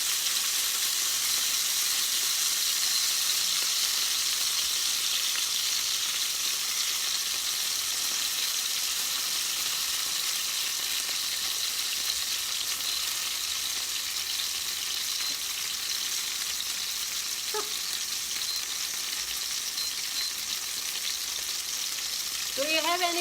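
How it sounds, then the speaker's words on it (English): A wine and brandy mixture poured into a hot frying pan for Mediterranean chicken piccata gives a loud, steady, close hiss of sizzling that holds for the full length, with a brief scrape near the end. "Put down now because I have to put a mixture with wine and brandy"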